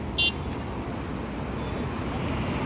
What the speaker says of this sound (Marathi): अबे इथं ट्रॅफिक जाम होतं कायम